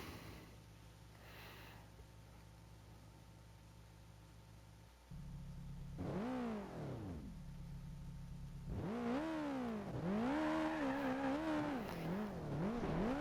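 An old Volvo's engine in the BeamNG.Drive racing game: a steady idle hum, then a louder drone, followed by repeated revs that sweep up and back down, the later ones fuller and stronger, with no talk.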